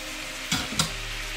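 Mahi mahi fish searing in a hot pan, a steady close sizzle broken by two quick louder bursts of spatter or stirring, no talking.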